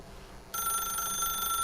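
A telephone in The Stanley Parable game suddenly begins ringing, a steady, loud electronic bell tone that starts abruptly and continues unbroken.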